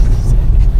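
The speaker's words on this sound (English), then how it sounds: "when I put the truck in drive and we go down the road, I can make this drive like a 2-wheel drive" Rivian R1T electric truck rolling slowly through snow, a low rumbling road and tire noise that stays close and fairly loud, without any clear engine note.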